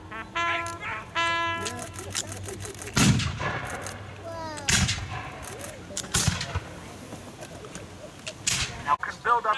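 Musket volley fire at a battle reenactment, sharp loud cracks at about three, five and six seconds with rolling echoes, mixed with shouted commands, voices and bird-like calls in the background.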